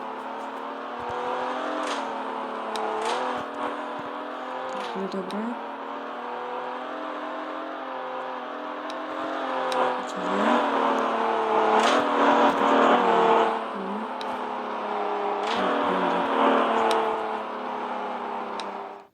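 A car driving in the Roblox game Car Dealership Tycoon, a steady engine drone that rises and revs at moments, with clicking ticks on top, alongside a brief spoken remark.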